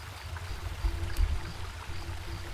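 River water flowing along a path in the video game Home, a steady low rushing wash with faint trickling on top, continuous and moderately quiet throughout.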